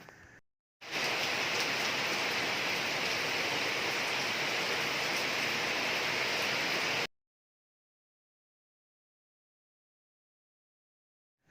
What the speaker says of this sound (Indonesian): Butiran-butiran air jatuh dan membasahi permukaan bumi.